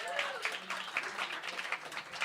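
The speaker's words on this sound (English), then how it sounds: "let's give a round of applause for Martin." Audience applause at a live music evening in a small room, light scattered clapping with a voice talking over it, fairly faint.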